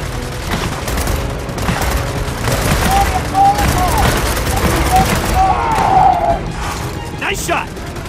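Continuous gunfire and explosions in Gears of War 4 campaign combat against enemies at a base, loud and dense throughout, with voices shouting over the battle noise.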